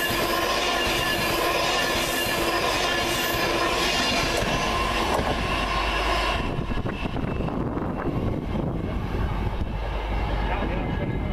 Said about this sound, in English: Now approaching Penrith is the Pendolino to London Euston